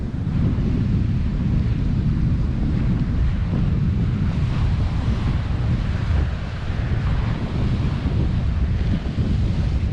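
Heavy wind roaring across the microphone for the whole stretch, deep and constant, with surf or water noise blended underneath, at a public beach in Grand Bend, Ontario.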